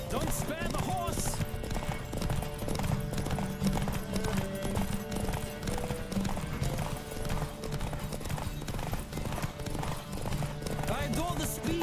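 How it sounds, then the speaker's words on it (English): Steady clip-clop of galloping hooves from The Witcher 3: Wild Hunt runs throughout, loud and continuous, with a whinny and other game sounds layered over it. "Don't spare the horse!"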